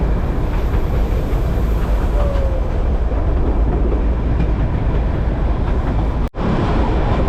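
The Darjeeling toy train crossing a road, a steady loud rumble of wheels and carriages rolling close by, continuous with faint clatter and a brief cut near the end.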